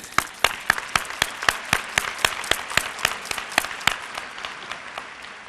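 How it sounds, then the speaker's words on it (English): Sparse, distinct hand claps from a small group at a city service awards ceremony, a steady run of sharp individual claps lasting several seconds before tapering off. "Let's take a moment to congratulate each of us, one another, by clapping."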